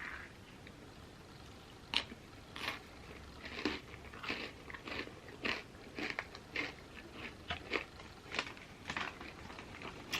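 Takis rolled tortilla chips dipped in a vegan cheesy buffalo dip are crunched close to the microphone, with a series of sharp bites followed by rhythmic chewing over a quiet background.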